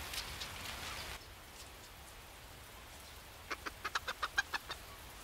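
Farm chickens out in steady rain: a continuous rain hiss, then a close, rapid run of about eight clucks near the end.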